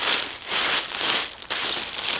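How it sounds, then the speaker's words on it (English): Plastic bag crinkling while a katana is unboxed, a dense continuous rustle with swelling bursts of crackle, close and moderately loud with no talk. "There's a plastic bag here."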